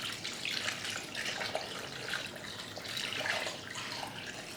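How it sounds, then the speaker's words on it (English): Clean water runs steadily from a tap into a basin for soaking braiding hair, a continuous splashing gush at moderate volume with no talking. "So I'm gonna add some clean water."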